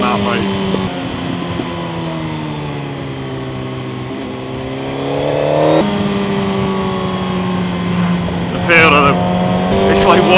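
A motorbike engine pulls hard as the rider opens the throttle, its droning harmonics climbing steadily with a few sharper revving bursts near the end. The engine stays loud and close throughout, with a voice faintly present at times.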